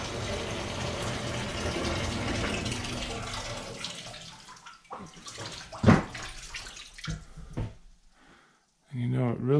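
Water gushes steadily from the pipe of a solar collector loop built into a metal kiln roof, then thins into intermittent splashes and gurgles before surging again.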